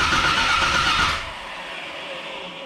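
A 1982 Camaro engine cranks over in an attempt to start, a loud steady churning whir that holds for about a second before dropping to a quieter hum, with no clear catch.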